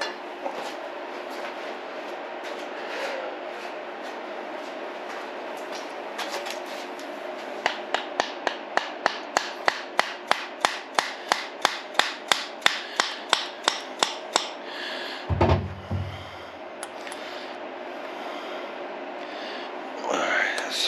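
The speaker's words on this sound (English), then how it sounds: "Let me get my little rubber hammer here." Small rubber hammer taps an engine part into place while a Yamaha G2 golf cart engine is being reinstalled, about twenty quick, even knocks in a steady run, followed by a clunk and faint shop noise.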